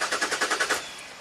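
Jaguar S-Type V6 cranking without catching, a rapid even series of about seven starter pulses over under a second, then a fading hiss with no engine firing.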